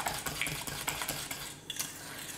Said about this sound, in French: On va touiller.